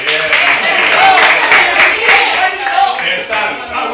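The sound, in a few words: audience applause for Salma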